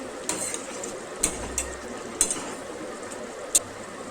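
Spoon stirring egg korma in a pan: several sharp metallic clinks against the pan at irregular intervals, over a soft background of gentle scraping and sizzle.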